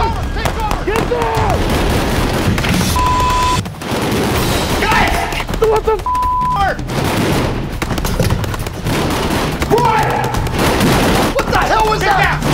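Gunfire breaks out during a vehicle repossession confrontation, with repeated loud shots and bursts ringing through the scene while people shout and yell over and between them.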